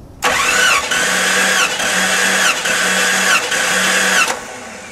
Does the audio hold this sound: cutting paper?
no